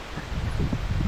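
Cold wind on the Curonian Spit in Kaliningrad Oblast buffets the microphone with a low, steady rumble, alongside faint rustling, over about a second.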